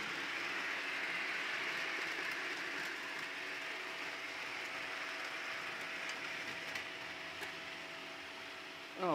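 A model B&M freight train with a Bicentennial 200 locomotive runs on a layout track, giving a steady whirring, rattling mechanical drone with faint clicks from the wheels and joints, close and even throughout.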